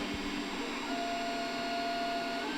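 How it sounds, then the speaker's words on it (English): A 3D printer runs a print late at night, giving a steady mechanical hum with a thin whining stepper-motor tone sliding in partway through; no one speaks. "for some reason I decided to start a 3D print"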